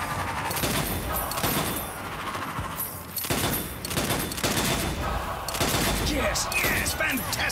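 Rapid gunfire in the video game Strange Brigade, played on Xbox One, with repeated bursts of shots and impacts filling the whole stretch, loud and close, with faint talk beneath.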